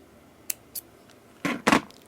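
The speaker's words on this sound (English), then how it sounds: "And now I will cut the" Scissors snip beading thread during handmade jewelry work, with two light clicks followed by two louder, closer cuts, all quiet and without talk.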